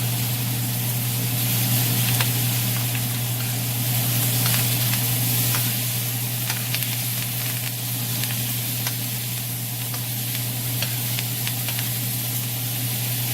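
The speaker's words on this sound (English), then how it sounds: "Now while that butter's boiling right there, you take it and you just scoop it onto your steak." Butter bubbling and sizzling steadily in a pan around a rib eye steak, a continuous close frying hiss with faint stirring and spooning ticks, no talking.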